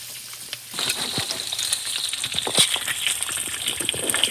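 An egg fries in a pan for a fried egg sandwich, a steady crackling sizzle with scattered pops and spits running close and continuous after a quiet start.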